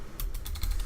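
Keys clatter on a computer keyboard as letters are entered into a terminal in a Rust game server, with about half a dozen quick, crisp clicks in a steady burst close to the microphone.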